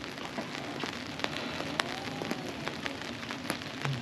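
Steady rain falls outdoors, a dense close hiss of drops with scattered sharper splats on hard surfaces, alone without talk.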